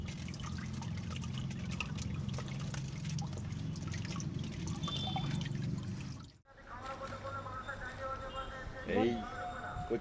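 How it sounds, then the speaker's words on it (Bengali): Water runs over a freshly harvested taro corm from a rooftop garden in a steady close splashing wash for about six seconds, then gives way to quieter drips while someone talks. "এবার কচুটাকে আমি খুব সুন্দর করে ধুয়ে নেব।"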